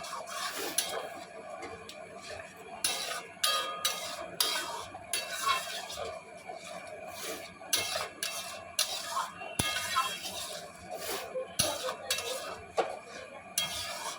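A spoon stirs boiled and fried moong dal together in a metal pot, scraping and clinking close up in repeated quick strokes with short pauses between bursts.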